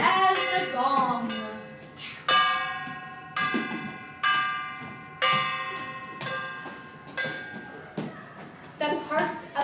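Gong strokes ring out in a children's performance of Peter and the Wolf, about eight separate struck hits with long, shimmering metallic decays, each one sounding alone after a brief opening passage.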